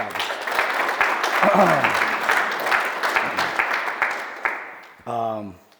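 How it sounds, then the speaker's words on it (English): Audience at a motivational talk giving a round of applause, dense sustained clapping for about five seconds that fades out before a voice speaks. "So give yourself a round of applause."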